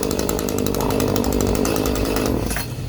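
A chainsaw roars at high revs inside a haunted Halloween attraction, a loud steady buzzing drone held close for a few seconds before easing slightly at the end.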